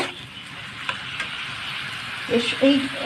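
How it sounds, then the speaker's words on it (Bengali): Mung dal is stirred into bottle gourd and spices in a pan, giving a soft sizzle with scattered spatula scrapes, close by, and a brief voice toward the end. "এবার মুগ ডালটাও এর সঙ্গে আমি দিয়ে দেবো। মশলার সঙ্গে ভালো করে মিশিয়ে নেব।"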